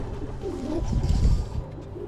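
Pigeons in a wooden loft give a soft, low, rolling coo that swells and fades over a couple of seconds, close by and fairly quiet.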